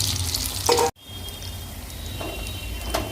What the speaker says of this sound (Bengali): এবার আলুগুলোকে সুন্দর করে কড়াই কড়াইয়ের সাথে তেলে এরকম করে কষে নেব ভালো করে লাল লাল করে কষে নেব